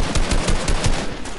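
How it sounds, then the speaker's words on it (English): Gunfire in the Fortnite video game, a loud, rapid series of close shots cracking out one after another with no talking over them. "Shotgun."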